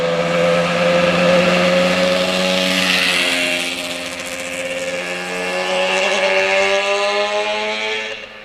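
Exhaust pipes of a restored 1985 Yamaha RZ350 Kenny Roberts Edition two-stroke motorcycle with a rebuilt engine, riding past: a loud, rising-and-falling buzzing whine that swells, eases, swells again and then fades out.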